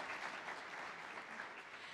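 Audience clapping at the 2022 Australian Museum Eureka Prizes award ceremony, a dense, even round of applause from a large crowd heard at moderate distance, with no voices over it.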